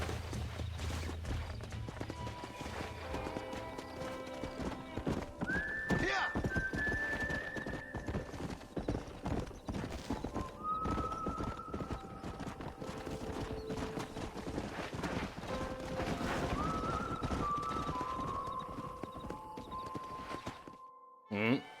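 Horses in the video game Red Dead Redemption: continuous, busy hoofbeats on a ranch, with several loud whinnies rising above them at intervals.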